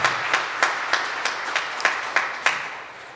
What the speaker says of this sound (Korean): 우리 따뜻한 박수로 환영해 주시기를 바랍니다